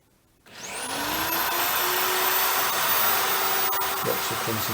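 An electric drill drilling a hole in a wall for a TV mount starts up with a rising whine and runs steadily at high speed, loud and close, with no talking.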